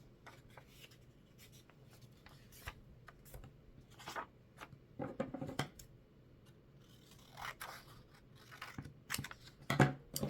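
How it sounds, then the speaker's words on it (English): Scissors snip through folded book pages, cutting small rectangular sunflower petals in a series of close, soft crisp cuts with rustling paper between them. "Then we're going to fold it in half again and cut to create these smaller rectangular shapes that are going to be our sunflower petals"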